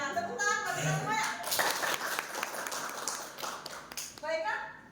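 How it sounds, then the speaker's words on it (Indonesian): An audience of teachers at a school gathering breaks into a short round of scattered applause, with a voice speaking just before and again as it fades. "Tepuk tangan bagi semua ya."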